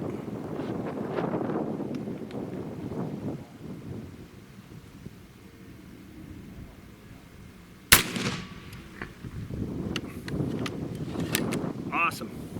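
A Zeus .72 caliber air rifle fires a 580-grain slug, giving one sharp, loud report. People talk before and after the shot.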